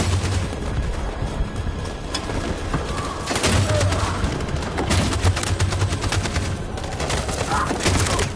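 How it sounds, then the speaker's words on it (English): Battle noise from the video game Detroit: Become Human carries sustained machine gun fire with rapid overlapping bursts and heavier booms, loud and continuous throughout, with faint voices in the mix. "That machine gun has taken down everything that moved!"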